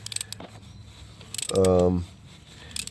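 A ratchet wrench clicks rapidly while a starter bolt comes off a Dodge Durango 3.6L during a transmission replacement, one half-second burst of dense ratcheting, close and loud, with scattered metallic shop clatter before and after.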